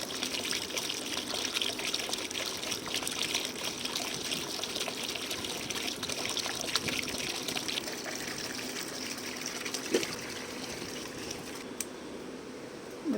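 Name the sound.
water from a motor pouring onto garden plants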